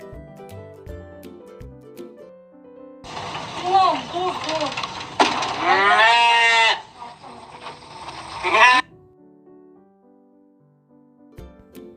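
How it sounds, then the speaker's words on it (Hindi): A ram, a male sheep, bleats loudly several times in a row, its wavering calls standing out clearly over soft background music. "ये है भेड़ा, जिसे हम इंग्लिश में बोलते हैं रैम।"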